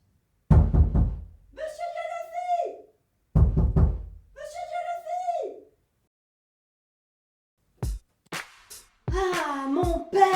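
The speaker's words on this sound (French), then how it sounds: "Florence tambourine à la porte." Two bursts of heavy pounding knocks on a door, close and loud, each a rapid run of thuds, followed by short sharp sounds and a voice-like tone at the end.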